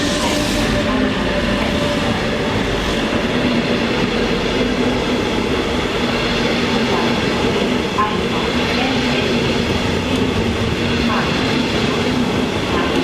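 An arriving train rolls in at the Essen main station (Essen Hbf) platform, its steady broadband rumble and rail noise filling the whole stretch with faint wheel clatter, while muffled station voices carry in the background.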